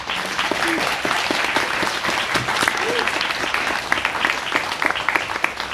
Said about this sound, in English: let's give these esteemed guests a wonderful welcome and a big round of applause